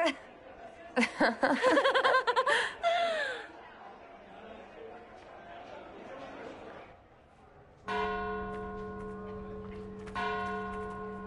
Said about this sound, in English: That's our bells